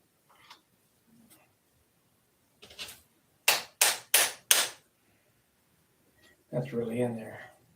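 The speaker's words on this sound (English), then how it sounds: "I guess I could hammer it out" A hammer strikes a stuck bushing being driven out, with a few faint taps, then four loud, sharp metallic blows in quick succession, and someone talking briefly at the end.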